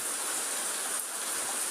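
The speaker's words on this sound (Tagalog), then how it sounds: "Umuulan na." Steady, even hiss of rain falling, constant and fairly soft with no breaks.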